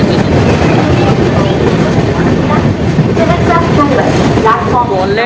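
Garib Rath Express with LHB coaches arriving at Rajendra Nagar Terminal in Patna, a loud close rumble of carriages rolling on track with rising squealing brake tones toward the end, a voice talking over it.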